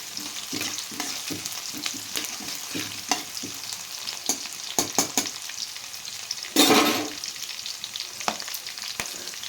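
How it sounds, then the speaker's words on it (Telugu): Green chillies and onions sizzle steadily in hot oil in a pan, with a dense, close frying hiss broken by frequent stirring clatters and one louder burst partway through. "రెండు పచ్చిమిర్చి వేసి ఇప్పుడు బాగా ఎర్రగా ఫ్రై చేస్తామండి ఇప్పుడు కొంచెం ఆనియను ఎర్రగా అవ్వాలి"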